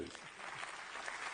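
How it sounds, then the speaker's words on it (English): A short burst of audience applause, a dense wash of clapping from many hands, steady and moderately loud. "Let's give them a round of applause, please."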